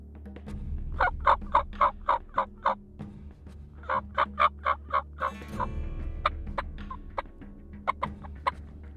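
Wild turkeys gobble repeatedly in rapid bursts, several birds calling back and forth at moderate distance over a low background hum.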